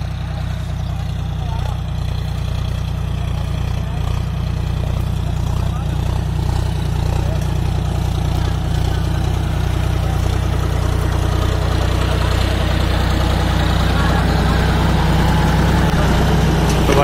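A John Deere 5205 50 hp tractor with a new harrow runs at a steady, loud, low diesel throb near the listener, with a faint voice underneath.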